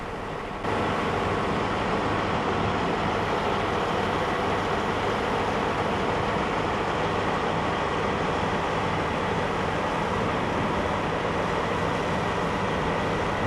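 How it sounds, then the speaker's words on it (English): An SSP-305 railway ballast regulator's heavy diesel engine idles steadily nearby, a constant loud rumble and drone that starts abruptly and holds unchanged throughout. "The noise in the background comes from SSP-305, a ballast regulator that was idling nearby."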